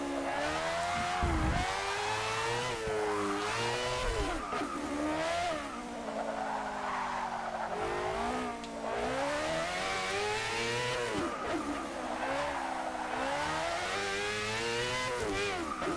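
High-revving race car engine from Forza Motorsport 6, climbing through gears in repeated rising sweeps with brief dips at shifts, loud and continuous throughout with no talk.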